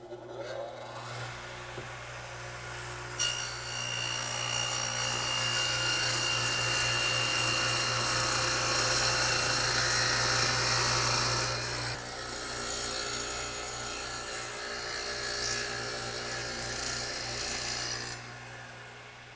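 A radial arm saw cuts a groove about 1/4 inch deep and 3/4 inch wide into a 2x4 in a woodworking shop, giving a loud, sustained whining, rasping cut that runs for most of the clip before the blade spins down.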